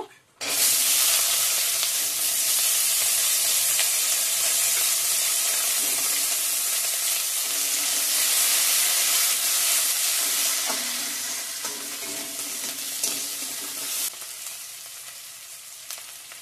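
Chopped onion tossed into hot oil with whole cumin seeds in a pan for an egg and potato curry, bursting into a loud continuous sizzle that slowly eases toward the end, with occasional stirring.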